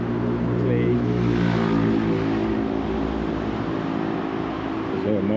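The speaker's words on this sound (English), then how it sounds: "There's a lot of noise here, as you can hear, there's still a lot of traffic." Steady street traffic near the entrance to Pottery Street in Naha, a continuous loud rumble of passing vehicles with a voice talking over it throughout.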